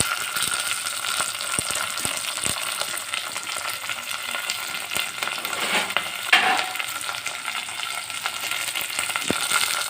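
Onion, curry leaves and green chillies with mustard seeds fry in a pan, producing a steady, close hiss of oil with faint crackles throughout.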